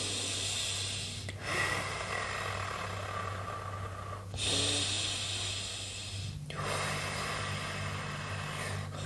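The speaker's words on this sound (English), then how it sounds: "go into some sort of a patterned breath when you are feeling the contraction" Patterned Lamaze breathing during a labour contraction, a few long hissing breaths with brief pauses between them, close to the mic over a steady low hum.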